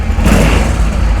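A Honda Transalp 600 (PD06) motorcycle engine runs loud and close at its first start-up after clutch and brake work, holding a steady rumbling drone with no talking.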